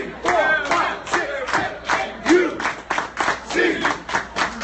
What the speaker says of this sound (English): Let's give Jerry a big rousing hand clap to wind this up